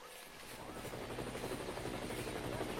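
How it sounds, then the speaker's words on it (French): A helicopter passes overhead in rural Oklahoma, its steady rotor thrum loud and continuous throughout, with no talking over it. "Je crois qu'il y a un hélico."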